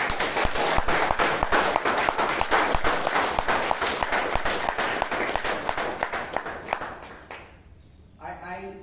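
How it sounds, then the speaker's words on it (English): Audience at a Toastmasters club meeting in Bangalore applauds with loud, dense clapping that thins and fades toward the end, followed by a brief voice speaking. "Give him a big round of applause."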